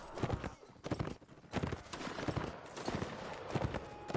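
Horse hooves pound in a rapid clip-clop gallop during a Napoleonic Wars multiplayer line battle, loud and close, mixed with scattered musket fire and battle noise.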